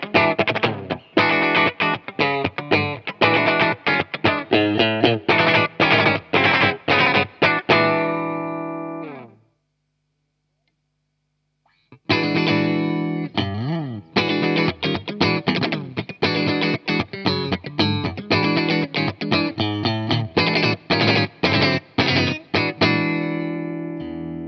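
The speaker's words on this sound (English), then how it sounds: "here's that same riff again with position 1, and the neck pickup." A Fender Player II Modified Stratocaster plays a riff on its neck pickup in switch position 1, through a distorted, effects-laden tone. Fast picked notes repeat, stop for about two seconds, then the riff runs again, loud and close.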